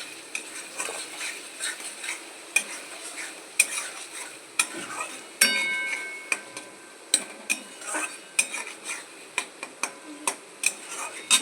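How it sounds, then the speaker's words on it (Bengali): Coriander, cumin and turmeric powder sautéed in a pan, with steady stirring scrapes and sharp clinks of a utensil against the pan over a faint sizzle, close and fairly quiet throughout. "ধনে গুঁড়ো জিরের গুঁড়ো আর হলুদ গুঁড়ো মিশিয়ে এটা এখন আমি কষাচ্ছি"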